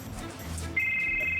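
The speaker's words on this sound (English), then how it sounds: "Whose phone is that?" A mobile phone rings with a single steady electronic tone that starts partway through and holds, moderately loud, over a low room background.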